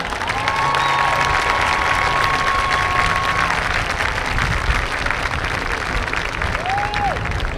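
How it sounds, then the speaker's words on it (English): Crowd applause at a high school football homecoming fills the space, steady and dense clapping with some cheering, over faint music and a brief whistle-like tone. "Let's give our homecoming court reps one final round of applause."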